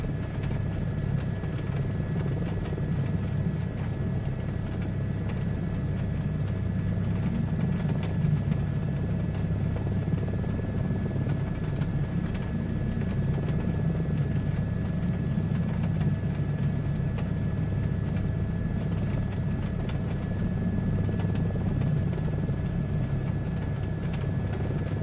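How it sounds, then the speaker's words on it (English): A helicopter flies in a VR flight simulator game, its rotor and engine making a continuous low, even drone that stays steady and loud for the whole stretch with no talk. "Helicopter racing, yeah."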